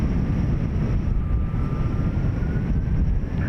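A heavy Delta airliner takes off at Dublin Airport: its jet engines make a loud, continuous low roar close by, with a faint high whine above it and no voices.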